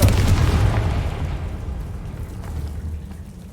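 A Confringo fire spell bursts in Hogwarts Legacy, landing as a loud, deep boom with a rumbling low tail that slowly fades over a few seconds.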